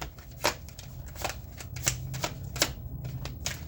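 A tarot card deck is shuffled by hand in a series of quick, close riffling bursts, roughly a dozen crisp snaps over a few seconds, with no voice over them.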